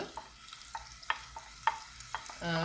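Onion sautés in a pan for palak paneer while a spoon scrapes and taps in a quick rhythm over a soft, steady sizzle. A louder burst of frying comes at the end.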